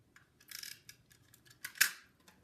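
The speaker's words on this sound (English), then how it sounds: "I'm going to use my snips to help me line it up" Small craft snips cutting card or paper, a few quick crisp snips over a couple of seconds, the last one loudest, close and quiet with no talking.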